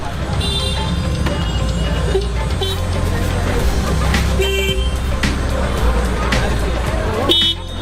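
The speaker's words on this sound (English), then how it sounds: "You've really got to be careful of the traffic and the action that is happening on this road." Busy Mumbai street traffic beside a market, with repeated car horn toots and honks over a steady rumble of engines and crowd babble, loud and close throughout.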